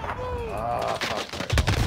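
Gunfire from the online shooter Call of Duty: Warzone: short bursts of shots, close and fairly loud, mixed with a voice during a match.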